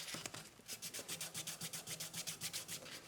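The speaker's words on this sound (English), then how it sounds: "you just place the sandpaper down" A metal pendant piece is rubbed back and forth across sandpaper laid flat, giving about seventeen steady, even scraping strokes in a quick regular rhythm, close up and alone without any talk.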